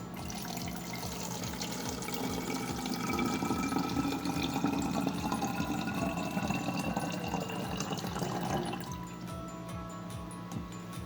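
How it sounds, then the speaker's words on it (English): Half a cup of water pours into a bottle for a DIY lava lamp, giving a steady gurgling stream with rhythmic glugs for about nine seconds before it stops, fairly close and alone. "So first we're going to pour the half a cup of water into our bottle."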